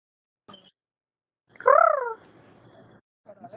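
A person imitates bird calls, giving a loud, warbling, turkey-like gobble that rises and falls, with short vocal bursts before and after it and quiet gaps in between.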